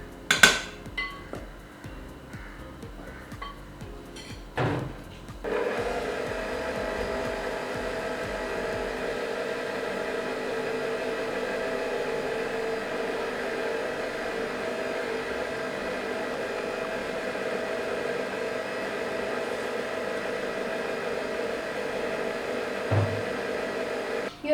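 Electric mixer running steadily on its lowest speed, beating cake batter of flour and milk for a speckled Easter cake, a continuous even whir after a few clinks and handling noises at the start.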